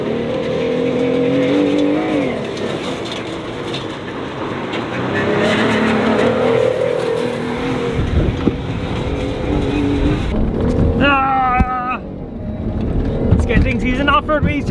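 An off-road racing vehicle at King of the Hammers doing donuts on uneven desert terrain, its engine roaring loudly and continuously with revving surges, while people shout and talk over it nearby.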